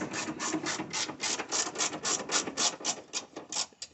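Ratcheting mechanic's wrench tightening bolts while a car window is being fixed, a rapid steady run of close clicks that continues without pause.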